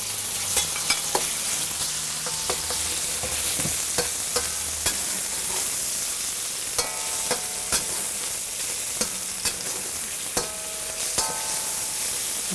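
Beef searing in avocado oil in a hot pan for a beef and caramelized onion stir fry makes a continuous close sizzle. Sharp clinks and scrapes from stirring break in at irregular intervals, and no one speaks.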